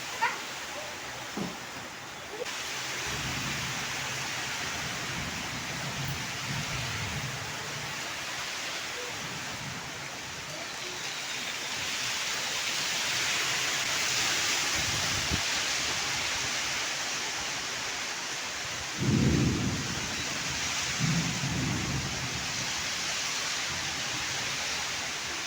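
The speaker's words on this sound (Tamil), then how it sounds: "மழை பெய்யும்போது பார்த்திங்கன்னா இந்த தென்னை மரத்தில் அந்த ஓலையிலலாம் பட்டு காற்றடிக்கும் போது அந்த மழை பெய்கிற சத்தத்தோடு கேட்குறதுக்கு" Steady rain falling on coconut palm fronds, a dense constant hiss throughout with gusts of wind swelling it, and brief low rumbles and thumps later on.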